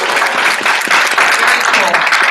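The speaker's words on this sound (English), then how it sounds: "I want you to go ahead and stand up so we can give you a round of applause." Audience applause for distributors standing up at a company sales meeting, a steady dense clapping that fills the short moment, with some cheering mixed in.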